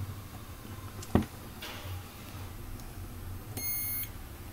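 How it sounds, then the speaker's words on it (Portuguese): A multimeter gives a short electronic beep while charging a capacitor during a circuit-board check, a thin tone heard near the end over a faint background hum. "carregou o capacitor, esse bip é normal"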